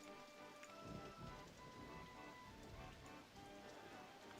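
Steady rain falls in the Rollercoaster Tycoon theme-park game. It is a constant, quiet hiss of drops on surfaces, with faint rumbling underneath and no voices.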